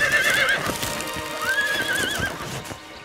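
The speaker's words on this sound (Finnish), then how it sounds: "Voi, katsokaa hepparukkaa." A cartoon horse in the Winx Club series whinnies loudly twice, each neigh rising and wavering, with clip-clopping hooves beneath, close and clear with no talk.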